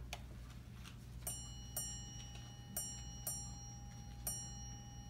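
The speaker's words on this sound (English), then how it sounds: "I'll let you hear a chime right away." A Chelsea ShipStrike quartz ship's bell clock sounds a series of five bright, ringing bell strikes, grouped in pairs with a single final strike, each fading with a short sustain over a low steady hum.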